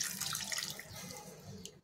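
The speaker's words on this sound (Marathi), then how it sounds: "थोडंसं पाणी टाकायचं आहे" A little water is poured into a pan of salted clams, giving a soft, brief splashing trickle that fades out at the end.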